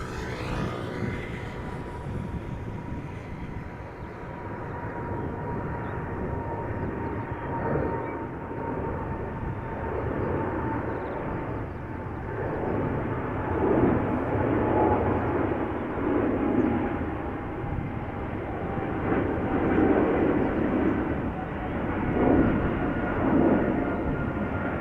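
Boeing 777 jet at Amsterdam Schiphol Airport, a steady distant engine roar that swells gradually over about 25 seconds as the aircraft passes, with no talk.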